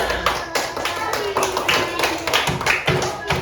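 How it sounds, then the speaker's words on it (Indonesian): A school class claps hands in quick, uneven bursts, the claps overlapping into a loose patter with a few louder taps. "Nah, coba tepuk tangan semuanya."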